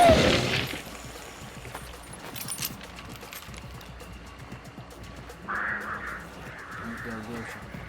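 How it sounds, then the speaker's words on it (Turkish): Crow cawing in the game Hunt: Showdown, a few harsh calls at a moderate distance mixed with game ambience, faint gunfire and players talking over it. "Karga sesi"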